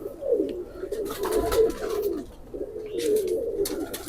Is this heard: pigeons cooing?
yes